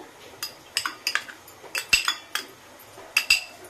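Onion paste and mustard paste spooned into a bowl for steamed prawns, heard as a quick series of close metallic clinks and taps of a spoon against the dish, unevenly spaced, with no voice over it.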